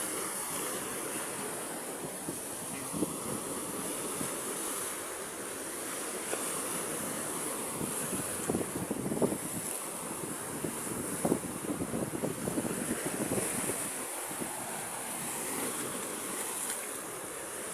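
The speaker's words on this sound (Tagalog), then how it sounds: "galit talaga yung alon sa atin" Rough sea surf washes and crashes against a rocky shore with large boulders, a steady broad roar of water overlaid by heavy wind buffeting the microphone throughout, with no talking.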